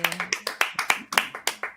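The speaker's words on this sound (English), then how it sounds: "Wow, applause." Sparse applause from a small gathering at a folk music performance, about a dozen distinct close claps in an uneven rhythm, few hands rather than a full crowd.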